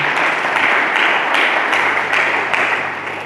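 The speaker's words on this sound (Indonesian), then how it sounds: "Berikan tepuk tangan bagi Tuhan." A congregation claps for God during a church sermon. The applause is steady and sustained, broad and fairly loud, and runs through the whole stretch with no talk over it.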